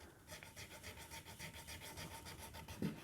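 A file rasps across the top of a guitar fret end during a custom Les Paul neck build, a steady series of quick, even back-and-forth strokes, close but quiet, with a brief knock near the end.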